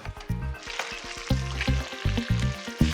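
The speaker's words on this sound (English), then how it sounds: "In the bisque goes the shells of the scampi, onion, fennel, garlic and tomato" Scampi shells, onion, fennel, garlic and tomato sizzle in a hot pan for a bisque in a competition kitchen, a steady loud frying hiss broken by repeated knocks and scrapes of stirring.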